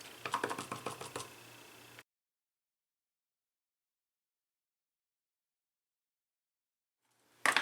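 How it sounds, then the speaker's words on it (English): A rubber stamp with a floral image is pressed repeatedly onto paper, giving a quick run of soft, close taps and thumps for a couple of seconds, then silence before another brief tap at the end. "I'm just going to randomly stamp this flower all over my paper"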